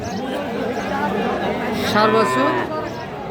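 A Friesian cross bull calf, about four months old, moos once at a cattle market in Raniganj, a short low call rising midway through. Nearby voices talk continuously over steady crowd murmur.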